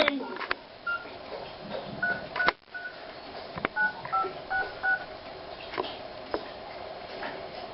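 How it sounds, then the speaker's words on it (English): A telephone number is dialed in a comedic phone-call skit, with a series of short keypad tones at uneven spacing over a quiet room with a few clicks and knocks. "Oh, dialed the wrong number."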